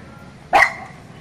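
A single short, loud dog bark or yelp from a pack of dogs fighting, sharp and close, standing out over a quiet background.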